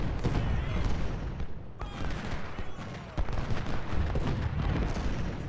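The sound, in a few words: Civil War artillery fire in Ultimate General video game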